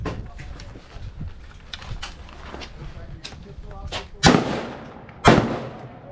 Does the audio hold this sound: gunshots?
yes